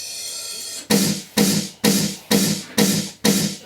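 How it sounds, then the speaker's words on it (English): A processed snare-like effect hit from electronic dance music production, run through a sound codizer for aggression, strikes six times in a steady rhythm after a sustained synth pad, each burst bright, noisy and loud with a quick decay. "I have this one, just like a snare."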